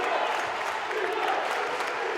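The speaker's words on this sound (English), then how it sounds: "the Cardinal bench is up and clapping." Basketball bench and crowd clapping during a men's college game between North Central College and Augustana College, a steady dense patter of applause filling the gym with crowd noise throughout.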